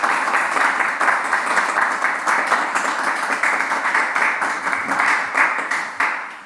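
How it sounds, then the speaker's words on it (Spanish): An audience claps at a flamenco conference in Archidona, with loud, close, dense applause from a hall full of people, running steadily and gently thinning near the end. "muchas gracias y un aplauso para José Javier, por favor."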